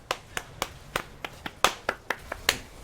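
Hands clapping during a League of Legends game session, about a dozen sharp, evenly spaced claps at a quick steady pace, close and fairly loud with no talk over them.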